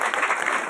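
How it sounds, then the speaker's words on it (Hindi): A brief, dense burst of audience clapping at a business seminar, even and moderately loud, with no one speaking over it. "एक बार जोरदार ताली होनी चाहिए"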